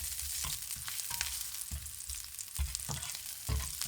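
Garlic and ginger frying in olive oil, a close, continuous sizzle broken by repeated scraping stirs, with no talking.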